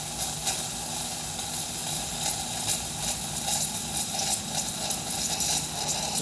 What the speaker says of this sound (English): we're going to run hot water to clean it out.